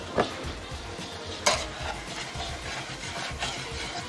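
Onions fry and brown in a pan for beef stroganoff while a utensil stirs them, giving a steady close sizzle with sharp scraping clinks of the spoon against the pan at a few moments.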